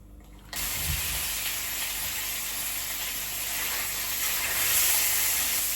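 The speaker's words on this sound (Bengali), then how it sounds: "এখন আগে শিং মাছটা ভেজে নেই" Shing fish hit hot oil in a pan and burst into a loud, steady sizzle, a continuous hissing spatter that goes on without pause.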